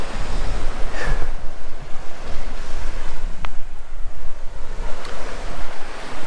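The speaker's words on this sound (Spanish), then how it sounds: "Hay un poquito de mar de fondo." Sea swell washes onto a beach while surfcasting, a steady roar of surf and wind noise across the whole stretch with gentle rises and falls as waves break.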